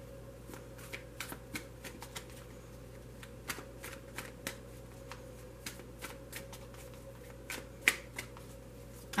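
A tarot card deck is shuffled by hand, giving a quiet, steady run of soft riffling flicks and taps close by, with a few sharper snaps over a low background hum.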